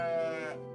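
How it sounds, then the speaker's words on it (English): A single short sheep bleat from the video game OneShot, a tonal wavering cry lasting under a second, clear and close with nothing else around it. "Oh, there's a goat! Well, that's a lamb, that's sheep."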